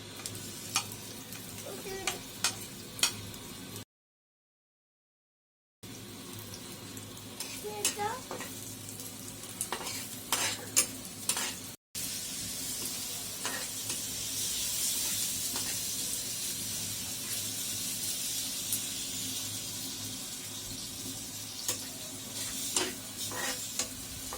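Chopped onion sizzling in oil in a pan while shutki bhuna is cooked, with a soft steady fry punctuated by spatula stirs and scraping clicks; the sizzle swells louder in the second half.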